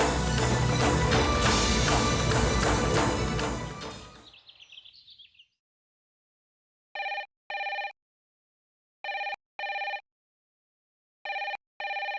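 A telephone rings in short paired electronic trills, three double rings spaced apart, after music fades out to silence.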